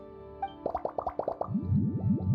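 Lizard tails, fish scales, mucus and slime condensate plopped into a cocktail in Genshin Impact: a quick run of about six wet plops, then a bubbly, gurgling swirl of liquid, close and clear with no talking.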